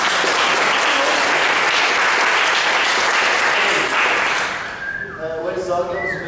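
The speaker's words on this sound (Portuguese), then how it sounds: "Então, um aplauso para o Manu" Dense, loud applause from an audience at a party event runs for several seconds, then fades as a speaking voice takes over.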